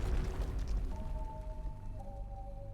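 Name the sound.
explosion in the video game Ai: The Somnium Files - Nirvana Initiative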